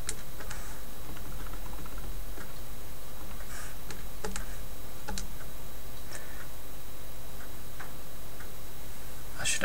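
Someone types a number on a computer keyboard, with light, irregular key clicks close by over a steady background hum.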